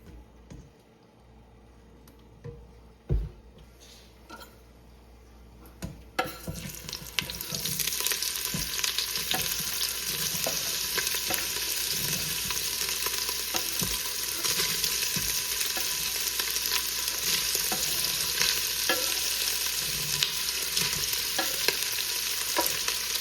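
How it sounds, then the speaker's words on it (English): Sausage browning in oil in a pot for a blue crab and corn chowder: a soft stirring scrape for a few seconds, then a loud, steady sizzle that starts suddenly and keeps going, close by, with no talking. "we're gonna add a little oil to the bottom of a pot and we're gonna brown this sausage"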